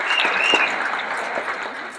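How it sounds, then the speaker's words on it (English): Many hands clap at the Cape Cod Canal centennial ceremony, a dense, even burst of crowd applause that holds steady for a couple of seconds before tapering slightly. "Don't clap yet."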